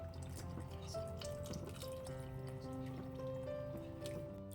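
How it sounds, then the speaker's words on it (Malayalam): Water poured into a pan of Kerala-style mackerel and raw mango fish curry, a faint trickling and dripping with soft liquid splashes, quiet and close, along with light clinks and faint background sounds. "കുറച്ചുകൂടെ വെള്ളം ഒഴിക്കാം"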